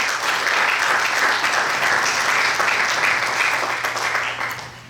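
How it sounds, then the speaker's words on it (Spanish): A church congregation applauds loudly and steadily during a sermon, the dense clapping holding throughout and fading slightly at the end, with a low hum beneath. "Dale un fuerte aplauso."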